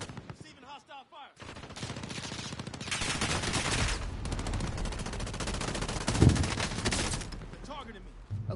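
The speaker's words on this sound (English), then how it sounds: "Receiving hostile fire." Hostile gunfire in the video game Warzone on Rebirth Island, heard as sustained rapid automatic bursts for several seconds. The firing is loud and close, with game voices alongside.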